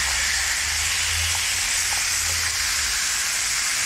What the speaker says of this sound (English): You want to have it up at a nice high heat to sear the steak, just to lock in all the flavours and juices.